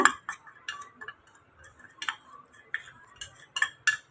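A spoon stirs and clinks against a bowl of homemade kids' snack mix, giving steady rhythmic tapping and scraping up close with short pauses between strokes.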